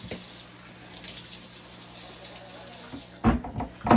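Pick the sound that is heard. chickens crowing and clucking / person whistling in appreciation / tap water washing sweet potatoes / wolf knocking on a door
tap water washing sweet potatoes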